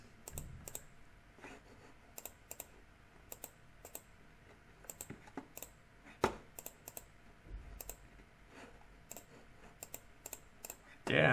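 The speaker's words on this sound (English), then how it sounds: "I'm just randomly clicking something if you haven't noticed yet." Sharp computer clicks and keyboard taps during a long online quiz, irregular single and double clicks close to the microphone over a quiet room, with a louder burst at the end.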